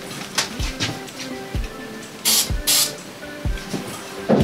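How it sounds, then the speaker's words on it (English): Two short hissing bursts of an aerosol spray tack adhesive can amid faint clicks and rattling handling noises nearby. "Oh, spray tack."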